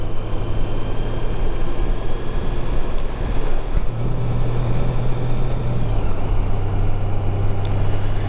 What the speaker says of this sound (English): The engine's revving up a bit more than usual.